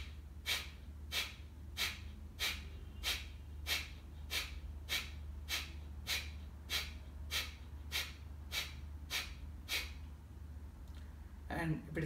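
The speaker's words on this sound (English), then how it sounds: "In kapalabhati pranayama we have to use your stomach muscles and the lower part of the chest." Forceful kapalabhati pranayama breathing driven by the stomach muscles: about fifteen sharp, evenly spaced exhalations in a brisk rhythm, close and clear, then they stop, with a brief rustle at the end.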